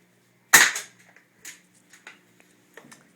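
A Swiss Arms SAR10 CO2 airsoft sniper rifle fires one sharp, loud shot of a 0.2 gram BB, followed by a few faint clicks and small knocks in a quiet setting.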